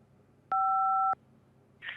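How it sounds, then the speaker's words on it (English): A single telephone keypad tone sounds when 5 is pressed to accept a call, a clean steady beep lasting about half a second, followed by a brief faint noise. "To accept this call, press 5 now."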